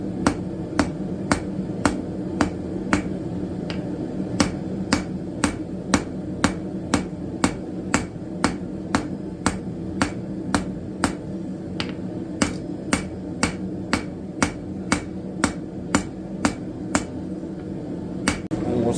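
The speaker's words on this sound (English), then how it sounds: "Just turn it up on the corners and hammer those down." Steady, sharp ringing hammer blows on an anvil while forging a candle snuffer's corners, about two strikes per second, crisp and close over a low background hum.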